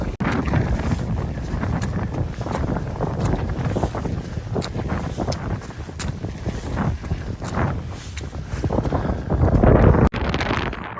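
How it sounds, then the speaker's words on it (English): Strong wind blows across an open fell hillside near High Pike, roaring and buffeting the microphone in loud continuous gusts, with no speech. "I was getting fed up with the wind in my face"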